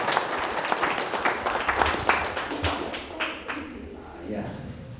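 Crowd applause at a celebration with a live orchestra, a burst of scattered clapping that thins out after a few seconds as voices speak over it.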